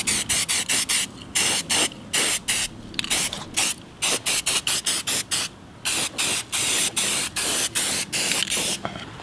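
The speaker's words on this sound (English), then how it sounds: "So right now, just spray this down again and try and focus on the intricate areas you weren't able to hit the first time." A spray paint can hissing onto a brake caliper in quick, rhythmic bursts, each short spray cut off by a brief pause, close and loud throughout with no talking.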